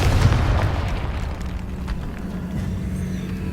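A booming blast from the Confringo fire spell in Hogwarts Legacy, cast in a decayed catacomb: a loud, sustained low rumble with crackling debris that lingers and slowly tails off, no talk.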